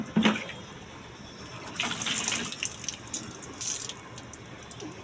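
Water poured from a container at home, splashing and spilling onto the floor, with trickles and brief splashes coming in a few bursts at close range and no voices.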